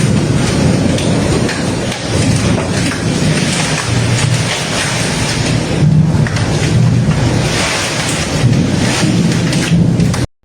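Heavy rain pours during a thunderstorm of Typhoon Wipha in Hanoi, a dense loud continuous roar of rain with deep rumbling thunder beneath, cutting off abruptly at the end.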